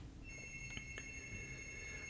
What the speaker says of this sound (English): pardon the phone in the background